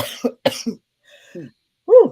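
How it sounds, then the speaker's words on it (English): A few quick, harsh coughs close up, then a short vocal exclamation after a pause. "Excuse me, I got a cough."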